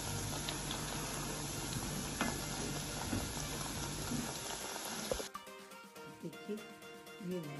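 Nimki snacks frying in oil over a low flame, a steady dense sizzle for about five seconds that cuts off abruptly, leaving quieter kitchen clatter and light handling noises.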